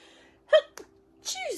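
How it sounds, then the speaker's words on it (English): A single sharp sneeze bursts out indoors, preceded by a quick gasping intake and followed by a brief vocal tail, loud and close to the microphone with a faint steady hum behind it. "I am about to sneeze."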